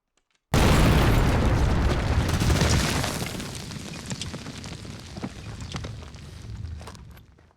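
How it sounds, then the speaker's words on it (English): A landmine detonates in a war film: a sudden loud blast erupts, then a long rumbling roar and scattered debris slowly fade over several seconds. "Stu triggers a landmine left over from the Soviet-Afghan War."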